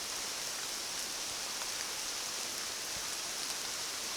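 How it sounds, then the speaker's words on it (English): Steady rain patters through a wood beside a walking path near Kingscross on the Isle of Arran, a dense, even hiss of drops on leaves and ground that holds close and constant throughout, with no other sound standing out. "you can hear the rain"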